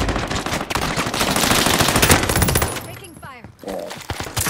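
Rapid automatic gunfire from a Vargo 52 rifle in the video game Warzone rattles loudly and continuously for about three seconds, then breaks into scattered shots and game effects.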